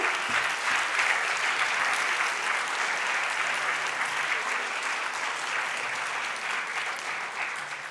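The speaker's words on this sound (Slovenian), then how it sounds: "lahko še en aplavz, prosim" Continuous hall applause for award winners at the POPRI 2026 closing ceremony in Slovenia, many people clapping in a steady, even roar that holds for the full length and fades a little at the close.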